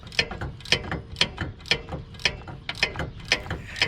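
Hand ratchet clicks steadily while loosening a hard-to-reach hub bolt with an extension on a 2006 Nissan Pathfinder 4.0 SE, a close, rhythmic series of sharp metallic ticks in even strokes.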